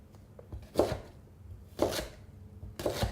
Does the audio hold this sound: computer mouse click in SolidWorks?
no